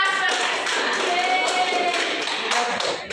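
Primary school children clap their hands in a classroom, a quick run of sharp, rhythmic claps close by that continues through the moment before trailing off.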